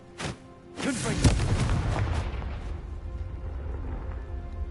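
A Confringo blasting spell goes off in Hogwarts Legacy: a short pop is followed by a heavy explosive boom, then a sustained rumbling roar that fades slowly. Faint voices can be heard under the blast.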